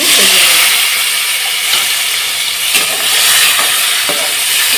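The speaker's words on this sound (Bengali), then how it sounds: "আমার ক্যাপসিকামগুলো ভেজে নেওয়া হয়ে গিয়েছে দেখুন আমি এইভাবে ভেজে নিয়েছি" Capsicum frying in hot oil in a home kitchen, a steady loud hiss and sizzle throughout with a few faint clinks and soft knocks, no talking.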